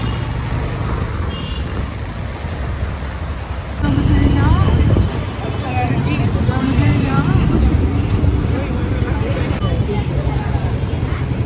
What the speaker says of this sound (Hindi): गाड़ी की आवाज़